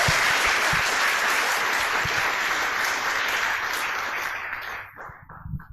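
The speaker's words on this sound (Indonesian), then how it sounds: "Aplaus buat Anda" Audience at a motivational talk in Medan clapping and applauding loudly and continuously, the dense applause fading out toward the end.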